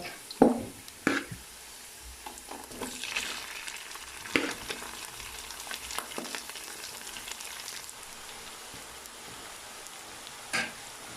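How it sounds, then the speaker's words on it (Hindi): Rice frying and being stirred in a pan for sweet jaggery rice, a steady soft sizzle with scattered sharp scrapes and clicks of the spoon against the pan, close and alone. "अब इसमें मैं आधे चावल डालूंगा।"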